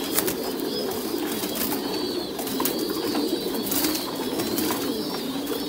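Thai Titan pigeons coo softly and continuously in a loft at morning feeding time, a dense murmur of many birds with occasional wing flutters and clicks.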